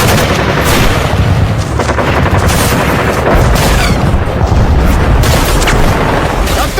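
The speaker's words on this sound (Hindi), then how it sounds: "राइट के बंकर से भारी मात्रा से फायरिंग हो रही है।" Loud staged gunfire effects boom in a live Ganpati festival tableau battle scene in Camp, Pune, a dense continuous barrage of bursts and blasts with crowd-level din, heard close and without clear speech.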